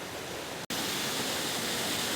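Water pours steadily into a pool inside a cave, a dense, continuous rushing roar that stays loud and even throughout, with no voices over it.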